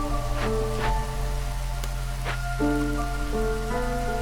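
Steady rain during drizzle season in the game Against the Storm hisses continuously under sustained tonal music, with a few brief soft swishes on top.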